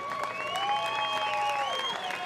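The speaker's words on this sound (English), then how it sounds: "let's give a big round of applause for both of these gladiators" A crowd at a cage fighting bout applauds and cheers steadily for the two fighters, with a constant wash of clapping and scattered high whistling tones running throughout.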